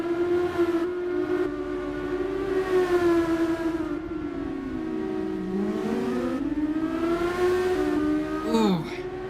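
A race car at full throttle in a Monaco Grand Prix race, its high engine whine holding steady, sagging, then climbing again through shifts before another car flashes past near the end; close and loud throughout.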